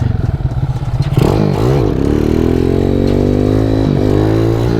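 A motorcycle ridden on a narrow, unnamed back street while practicing wheelies, its engine idling with a soft putter before revving up hard and holding a loud, steady drone with brief throttle dips, heard close and alone.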